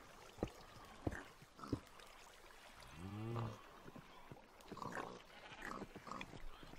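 Pigs in the video game Minecraft grunt a few times in short, fairly close snorts, with one longer squealing oink in the middle, over a soft trickle of flowing water.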